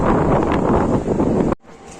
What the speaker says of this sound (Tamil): ஒரே காற்று, மழை அந்த மாதிரி இருக்கு.